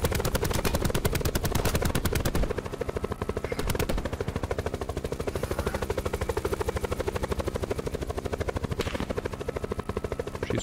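Rapid machine-gun bursts crack close and loud in Call of Duty Black Ops 4 Blackout, firing in long rhythmic strings over a steady helicopter rotor thrum.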